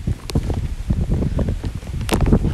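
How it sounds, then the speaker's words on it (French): Steady gusting wind buffets the microphone with low rumbling roar and rustle, continuous and close throughout. "il y a du vent"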